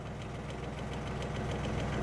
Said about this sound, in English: That tractor's just in idle,